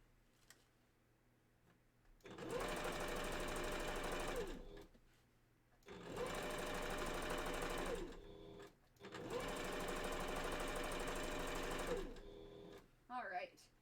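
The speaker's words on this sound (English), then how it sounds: "I like to stop for a second just to check to make sure the threads are properly sewing through." A sewing machine stitches a fursuit bandanna in three loud, rapid bursts of several seconds each, with short quiet pauses in between, close by.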